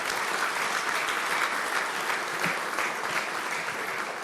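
A seated audience at a religious gathering in Korea claps in thanks, dense steady applause filling the whole stretch at an even level, with no voices rising above it.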